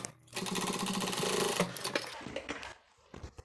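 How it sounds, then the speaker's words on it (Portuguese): A sewing machine runs fast and loud, stitching a lining seam on a zippered toiletry case in a dense mechanical rattle for about one and a half seconds, then slows into a few scattered clicks and thumps. "eu vou virar para que eu possa passar a costura bem em cima da outra que eu fiz"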